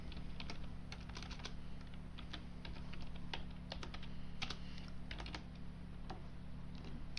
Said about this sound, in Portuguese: vou dar um Enter no meu teclado